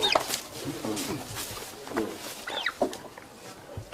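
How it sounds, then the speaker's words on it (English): Turkeys cluck and gobble in a series of short, bright calls at moderate distance, with a person talking alongside them. "They're actually turkeys, you know,"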